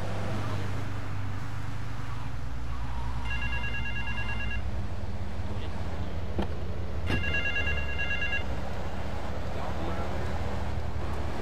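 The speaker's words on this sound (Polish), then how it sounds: "Gdzie ten telefon?" Telephone ringing in the video game GTA 3, two short bursts of electronic trilling repeated a few seconds apart over steady in-game vehicle engine noise, with a voice talking.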